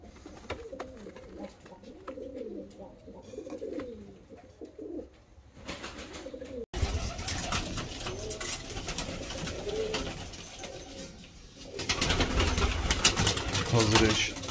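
Pigeons in a coop of fancy breeds such as German and English show birds give low, repeated cooing, clear at first and then partly masked by louder rustling and background noise.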